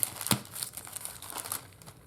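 Plastic packaging around craft journal supplies crinkles and crackles as it is opened, with a sharp rustle near the start followed by lighter, irregular handling crinkles close to the mic.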